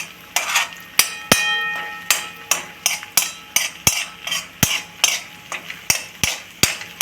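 Ginger-garlic paste for pav bhaji being stirred in a pan over medium heat, with a spoon or spatula knocking sharply and repeatedly against the metal in a steady rhythm and a faint sizzle beneath.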